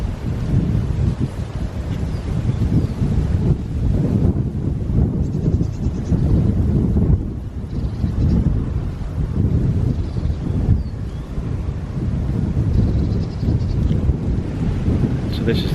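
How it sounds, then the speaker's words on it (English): Strong wind buffets loudly and continuously across the microphone in heavy, rumbling gusts, with no other clear sounds. "Even though today's pretty windy and pretty cold."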